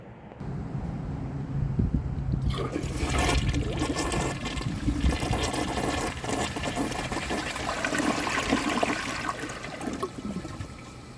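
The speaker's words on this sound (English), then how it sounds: "let's give this a flush and see how it does" A 2005 American Standard Cadet toilet flushes after a brief quiet start, with a loud, steady rush and gurgle of water that continues for about nine seconds, no voices.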